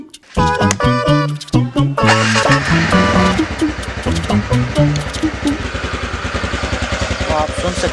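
A TVS Ntorq 125 Race Edition 125cc scooter engine starts and runs near the microphone, with a burst of revving giving way to a steady, slightly uneven idle throb as someone talks over it.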